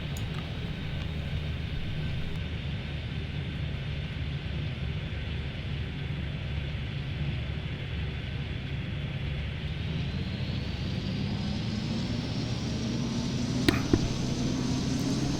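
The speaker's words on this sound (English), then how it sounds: "these departures sure make a lot of noise here" Departing airliners, including Boeing 787s, take off from runway 12 in the airport game Airport Madness 3D, producing a steady, loud jet-engine roar whose pitch slowly rises as the aircraft spool up and accelerate.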